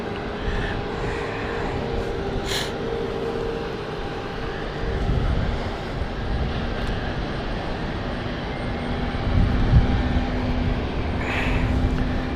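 An airliner bound for Edinburgh starts its takeoff roll at London City Airport, giving a moderate, steady engine rumble with a faint tonal whine that swells slightly toward the end.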